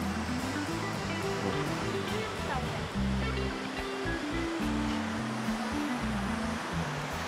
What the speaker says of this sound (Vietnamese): Trên đường là mình đã nghe thấy suối chảy rồi.